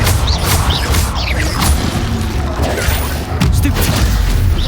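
A Confringo fire spell erupts in a Harry Potter video game, a burst of booming, crackling impact noise that flares and fades over a few seconds, with a second blast near the end.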